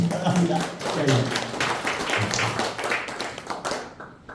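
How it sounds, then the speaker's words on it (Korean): An audience, including women, at a lecture hall claps in a burst of applause, a dense patter of hands that gradually thins out, with a voice speaking faintly underneath. "여성분들 우리 이승만 대통령에게 감사하다고 한번 박수 한번 보내주시기 바랍니다"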